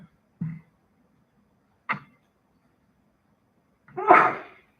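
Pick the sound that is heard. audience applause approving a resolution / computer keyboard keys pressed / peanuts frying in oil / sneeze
sneeze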